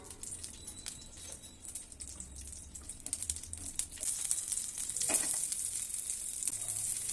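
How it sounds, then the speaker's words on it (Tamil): Three green chilies fry in groundnut oil in a kadai, a close, faint, crackling sizzle with irregular pops and spits that grows a little louder and denser toward the end. "கடாயில் கடலெண்ணெய் ஊற்றி மூணு பச்சை மிளகாய் போட்டிருக்கேன்"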